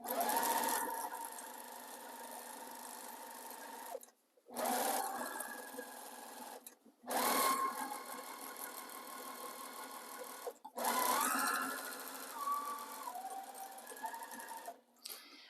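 A sewing machine stitches raw-edge appliqué on a baby quilt, running in four long steady bursts with brief pauses between them. It is close and even, with a whirring motor hum and no talking.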